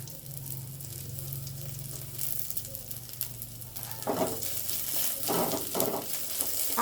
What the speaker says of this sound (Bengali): পেঁয়াজটা বেশ লাল লাল হয়ে গেছে এবারে আমি এর মধ্যে রসুন কুচো দিয়ে দেবো